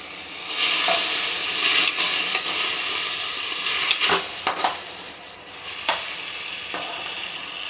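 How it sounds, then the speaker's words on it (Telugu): Boiled potatoes being stirred in a frying pan, with continuous bright sizzling broken by repeated scraping strokes and occasional clinks of the spoon against the pan, close and loud. "ఇప్పుడు ఉడికించి పెట్టుకున్న ఆలు వేద్దామండి ఇందులోనే."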